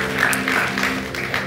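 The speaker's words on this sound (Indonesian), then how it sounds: "Berikan tepuk tangan yang paling meriah sekali lagi buat Tuhan kita" Church congregation clapping together during a worship service, a short swell of many hands in loose rhythmic pulses, moderately loud with a faint sustained tone underneath.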